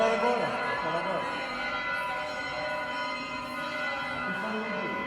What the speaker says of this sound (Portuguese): o sino toca meio-dia